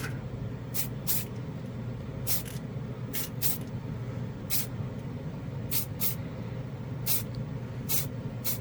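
An acrylic spray paint can fires about a dozen short, sharp hissing bursts at a Gundam model hand piece. The bursts come in uneven pairs and singles over a low, constant room hum, close by and without talk.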